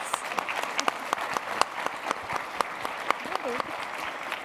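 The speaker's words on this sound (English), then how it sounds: "I would also invite the audience to give a round of applause to these amazing panelists" Audience applause for panelists at a CES tech session, a moderately quiet, fairly sparse clapping with distinct individual claps standing out and a faint voice in the background.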